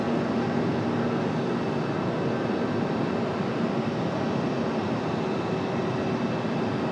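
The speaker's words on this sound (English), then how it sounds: "Here comes our flight from Charlotte." An airliner arriving from Charlotte at Raleigh-Durham International Airport, a steady, continuous broadband engine roar with a faint tonal whine, holding even in level throughout as the jet approaches.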